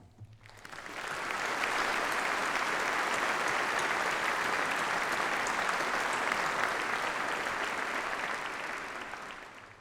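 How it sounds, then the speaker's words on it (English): Graduation ceremony audience applauding university staff: a large crowd's steady, dense clapping that swells in, holds for several seconds and fades at the end. "ask that you join me in applauding them"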